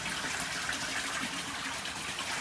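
Pond water splashes and gushes steadily while being scooped from a backyard pond under a transparent cover, a continuous near rush with no speech.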